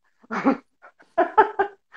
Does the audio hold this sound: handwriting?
no